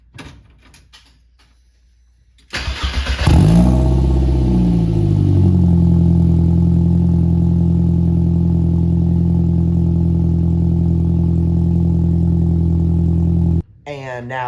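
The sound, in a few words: 1.8T MK1 Rabbit Pickup engine cold start, stock exhaust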